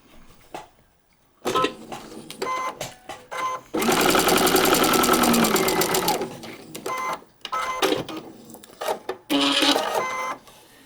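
A sewing machine stitches a paper-pieced quilt block in short runs. Several brief bursts are followed by a steady two-second run of rapid needle chatter, with pauses of quiet handling noise between the runs and no talking.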